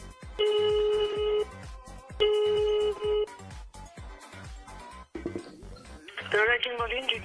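Outgoing phone call to a Burger King in Berlin: two long, steady ringback tones about a second each, separated by a short gap, then a different burst of sound as the line is picked up, all over a busy game-like background.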